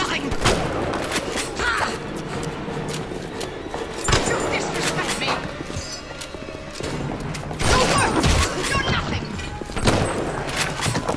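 Gunfire in a Bioshock fight, several heavy shots and crashing impacts scattered through a dense, noisy battle din, loud and close with mechanical clatter between bursts.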